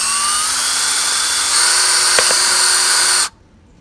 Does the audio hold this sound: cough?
no